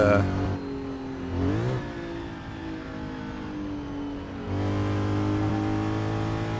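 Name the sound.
1967 Porsche 911R engine revving in Assetto Corsa video game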